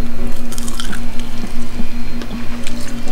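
Crispy sticky chicken being bitten and chewed up close, with wet, crunchy squishing bites repeating over a steady background hum, no talking.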